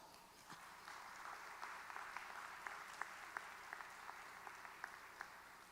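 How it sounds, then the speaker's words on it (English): A university convocation audience applauds steadily, broad clapping that continues throughout with a few sharper individual claps standing out, fairly distant in a large hall. "give yourselves a rousing round of applause"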